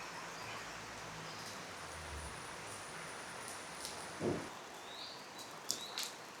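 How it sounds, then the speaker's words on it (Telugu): Birds call sparsely in monsoon rain in Kerala, a few short chirps and a sharper cry standing out faintly over a constant soft patter of rainfall. "వర్షం పడుతుంది, వర్షంలో అరుస్తున్నాయి అవి బర్డ్స్"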